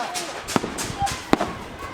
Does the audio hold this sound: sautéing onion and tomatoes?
no